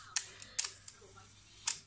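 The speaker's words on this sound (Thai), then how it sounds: "อันนี้กดถ่ายได้เลยนะครับนี่ ชัตเตอร์ B กดค้างได้เลย" A camera shutter set to bulb mode fires in sharp, close clicks, with a pair of snaps near the start and another crisp click about a second later over a quiet room.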